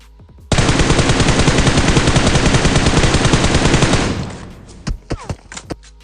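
Heavy automatic gunfire from squads fighting in a mobile battle royale game: a loud, dense burst of rapid shots lasting several seconds, then fading into a few scattered single shots.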